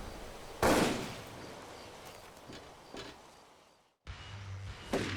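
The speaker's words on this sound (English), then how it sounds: "Somebody's shooting." A few sharp gunshot cracks from a video game, one loud and close near the start and a couple fainter ones after, over a dim game ambience that briefly drops to silence.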